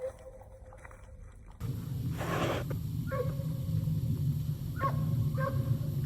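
Distant hunting dogs bay at wild hogs in a Florida marsh in scattered, drawn-out calls over a steady outdoor background hum.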